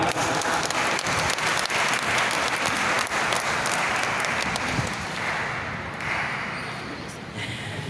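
A congregation claps steadily and densely at an El Shaddai Friday evening healing service, with loud, continuous applause from a large crowd for the whole stretch, easing slightly near the end.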